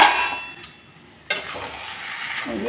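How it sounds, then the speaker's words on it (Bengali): A lid lifts off a pot of cabbage cooking on the stove: a sharp metallic clang, then a burst of sizzling and bubbling that stays loud and steady. "এদিকে ঢাকনা খুলে দিচ্ছি"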